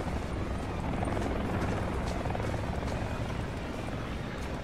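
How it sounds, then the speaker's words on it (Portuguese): A helicopter in Call of Duty Blackout on PS4 makes a steady, loud, broadband rotor roar that holds constant throughout, with no clear talk over it. "Não atira esse helicóptero, vamos ver se ele pousa."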